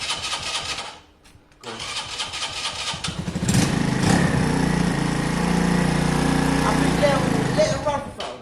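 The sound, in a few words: Keeway motorbike engine starting and running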